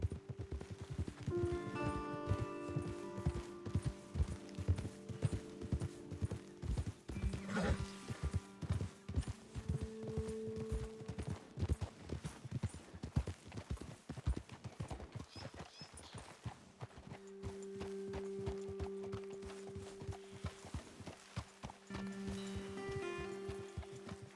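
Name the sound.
horses trotting in a video game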